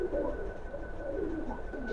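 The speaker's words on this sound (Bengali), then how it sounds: "একটু ডাক টাক দিবে কিনা আমি জি ভাই অবশ্যই ডাক দিবে আমি একটা কবুতর দেখাই" A domestic pigeon at a breeder's loft coos in low, rolling murmurs, close and continuous against a faint background hum.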